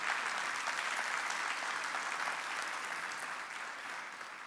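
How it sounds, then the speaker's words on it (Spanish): A church congregation applauds steadily throughout, a dense, fairly distant wash of clapping that fades slightly toward the end, with no talking over it. "Ese aplauso es para el Señor"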